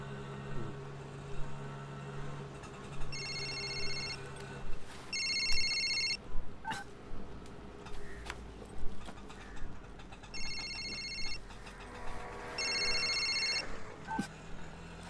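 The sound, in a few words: telephone ringing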